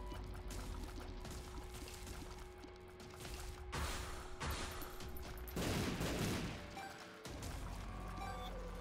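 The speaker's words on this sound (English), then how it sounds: "Roll Bomb's making a mess of everything." Bombs going off in The Binding of Isaac: Repentance, a string of crunching blasts and crashing impacts over busy game music, with a big, loud burst near the end.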